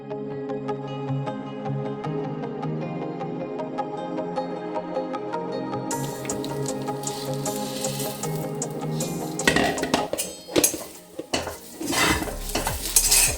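Masala stirred and roasted in a pan, heard as scraping and clinking utensil strokes and a light sizzle in the latter half, following a stretch of music.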